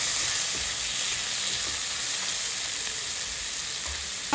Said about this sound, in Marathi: त्यानंतर मी यात टाकते टोमॅटो, हे आता व्यवस्थित मिक्स करून घेते